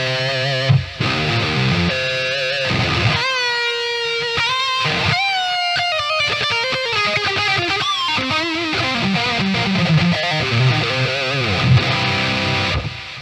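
Distorted electric guitar through the Revolt DSP Evo amp simulator plays sliding, wobbling notes and chords drenched in effects, loud and continuous without any voices.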